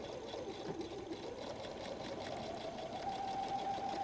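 A sewing machine runs steadily as it stitches a messenger bag pocket flap with a back stitch. A continuous mechanical whir holds at a fairly even level throughout, with no voices over it.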